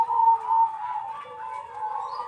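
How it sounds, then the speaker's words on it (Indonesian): Zebra dove of the Moka Majapahit perkutut type cooing, a clear close, steady series of soft hooting tones over about two seconds with no talk. "Ini adalah perkutut Moka Majapahit."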